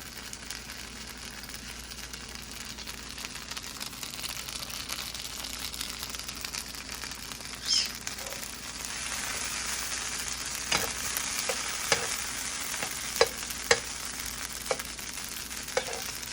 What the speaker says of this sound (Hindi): मैंने फ्लिप कर दिया एग्स को, लेकिन टमाटोज़ थोड़ी देर और पकेंगे।